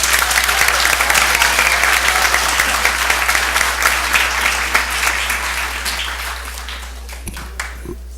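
Sustained audience applause at a school board meeting, dense and steady, fading gradually toward the end.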